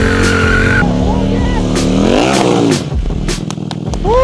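Motorcycle doing rolling burnouts during a drift lesson, engine revving loudly with rising and falling pitch, tire squeal and skidding close by, ending with a sharp rev.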